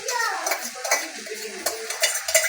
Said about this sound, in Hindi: तो इसमें हल्के से दही मिक्स कर दिए